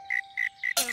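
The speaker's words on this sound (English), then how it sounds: "Follow that cricket." Cricket chirping close by, three evenly spaced shrill trilling pulses followed by a sharp, bright burst of noise.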